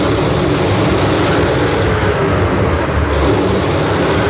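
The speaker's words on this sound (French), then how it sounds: "Clairement le démarrage d'un moteur, mais Fabien" Machinery engine starting up, a loud, steady low rumble with broadband mechanical noise throughout, a brief shift in tone partway through, recorded from a naval installation setting.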